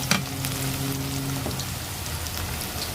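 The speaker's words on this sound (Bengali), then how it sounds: "পেঁয়াজটা তো হালকা একটু ভাজছি" Steady, soft sizzling of onion frying in oil, with a light clink near the start and a brief tonal hum fading out.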